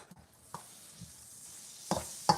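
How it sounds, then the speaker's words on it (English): Faint, steady sizzling of hot oil in a pan, with a few soft clicks and taps of a utensil, louder near the end. "Got my oil sizzling away."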